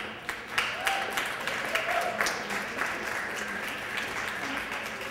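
An audience at a Haiti relief fundraiser applauds to welcome a singer. The clapping is moderate and fairly steady, with a few voices mixed in, and it tapers off slightly toward the end.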